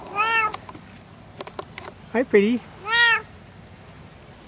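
A rescued cat meows several times in short, clear calls, close by, between a woman's soft spoken greetings.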